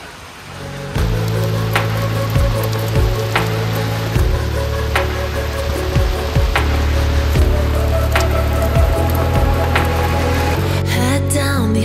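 Steady monsoon rain falls over the Kerala backwaters, a dense continuous hiss with scattered louder drips and knocks, heard up close and without talk.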